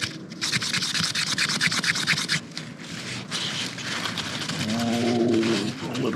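A case knife with grimy parts coated in mineral oil scrubbed by hand, a close, continuous rough scratching and rubbing with short pauses.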